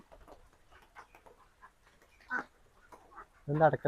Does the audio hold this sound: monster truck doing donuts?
no